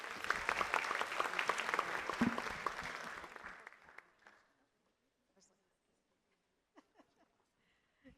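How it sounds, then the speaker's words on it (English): Audience applause at a summit panel presentation, brisk and dense for a few seconds, then tapering off around four seconds into near silence with a few faint scattered noises afterward. "Let's give her a round of applause, y'all."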